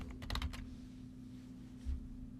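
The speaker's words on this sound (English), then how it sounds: "In the Living Atlas search, type ACS population." A search being typed on a computer keyboard, with a quick cluster of close key clicks at the start and a single soft tap later over a steady electrical hum.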